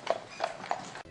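Hooves of an Ardennes draft horse clop in three evenly spaced steps, faint and somewhat distant over a background hiss, at a photo festival in France.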